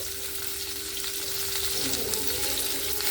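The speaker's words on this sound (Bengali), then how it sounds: "ওই মাছের মাছ ভাজার তেলের মধ্যেই আমি ফুলকপি আলুটা ভাজছি" Cauliflower florets and potato pieces fry in oil left over from frying katla fish, producing a loud, dense, continuous sizzle that holds steady throughout with no voices.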